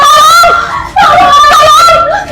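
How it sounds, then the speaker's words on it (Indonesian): A woman screams in a drama scene, a loud, high, wavering cry that breaks off and starts again, rising and falling over about two seconds. "Bu, kok tadi teriak?"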